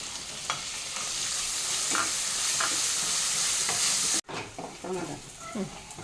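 Crushed small shallots frying in a pan for a healthy soup, a steady close sizzle with occasional stirring scrapes; the sizzle cuts out briefly near the end, then resumes with stirring.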